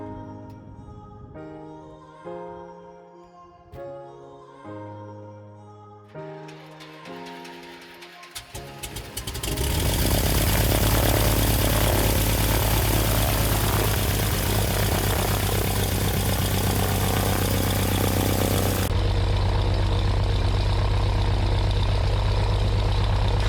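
A Cessna 182 propeller airplane engine starts after a few clicks and whirs, then settles into a loud, steady close-up drone with a constant propeller buzz that continues to the end.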